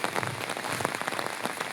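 Heavy rain hammers down in a dense, close patter, a steady rushing clatter with no voices.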